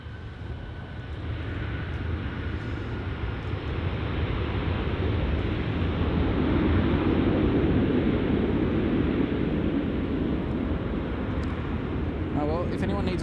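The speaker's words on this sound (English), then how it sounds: "that was a bit of a hard landing there" Close, steady roar of a fixed-wing airliner touching down hard at Gold Coast Airport, with broad engine and rolling noise sustained throughout, and people talking over it.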